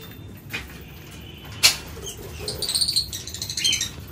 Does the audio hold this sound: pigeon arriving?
yes